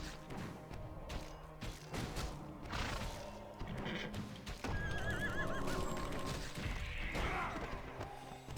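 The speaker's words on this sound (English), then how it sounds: "Wild horse. Wild stallion." A wild stallion in a video game gives a loud whinny over clip-clopping hooves, with heavy thuds and crashes of in-game action around it.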